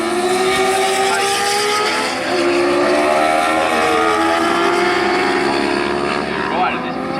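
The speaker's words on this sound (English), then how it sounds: "Tony Russo on that R6 there doing everything he can to keep him behind as Matt Weatherall makes his way around for what will be the final time" Thunderbike Sport and Supertwins racing motorcycles, including a Yamaha R6, scream past at Snetterton circuit with loud, overlapping engine whines rising and falling in pitch under continuous race commentary.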